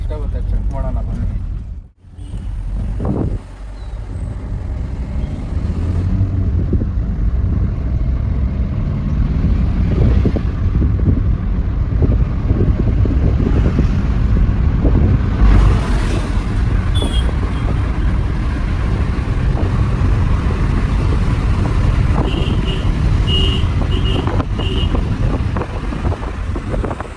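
A Maruti Suzuki Ritz hatchback accelerating hard from 0 to 100, with a steady, loud engine and road roar throughout and heavy wind buffeting, after a brief dip near the start.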